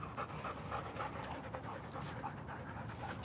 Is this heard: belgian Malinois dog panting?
yes